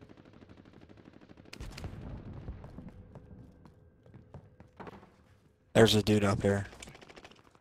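Call of Duty Warzone gunfire comes in sparse distant shots and a short loud close burst, with players talking in between.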